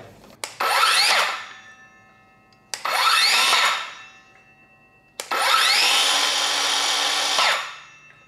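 A DCA ADMY165 cordless brushless circular saw motor spins up three times in short soft-start bursts, a high whirring whine that winds up quickly and then winds down, the last run longest.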